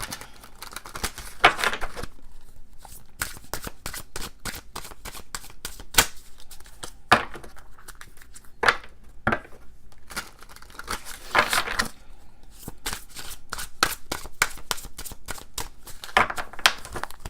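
A tarot deck is shuffled close up with crisp riffles and papery slaps, bursts of card noise separated by short pauses, steady and unhurried throughout with no voices.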